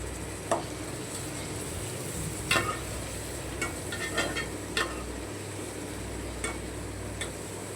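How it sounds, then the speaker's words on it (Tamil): Onions and tomatoes sautéing in a pan for Chettinad chicken curry give a steady close sizzle, with a handful of sharp clicks from stirring spaced through it. "தக்காளி போட்டதே தெரியக்கூடாது அந்த மாதிரி நல்லா வதக்கணும்"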